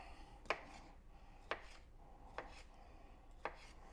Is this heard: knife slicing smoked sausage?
yes